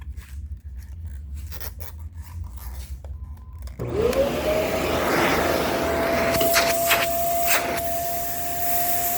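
A vintage vacuum cleaner with worn bearings starts up partway through and runs loudly and steadily, its motor whine rising to a sustained high tone, after quieter handling noises.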